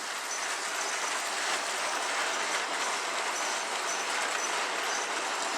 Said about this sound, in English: here we're about to see the fish train passing